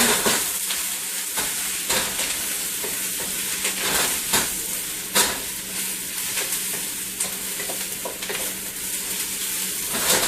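Mushrooms fry in hot oil in a pan for pork fried rice, a steady close sizzle with soft stirring and scraping clicks running throughout, no voices.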